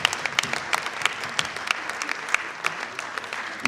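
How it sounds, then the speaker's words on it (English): Audience at a professional career day clapping continuously, a close crackle of individual claps forming a steady, moderately loud round of applause for nearly four seconds. "So let's continue clapping until he's down here."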